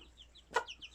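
A wet mother hen lets out one short, soft cluck near the middle, with faint chirping from other birds around it and no voices.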